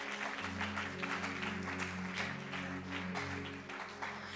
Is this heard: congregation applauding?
yes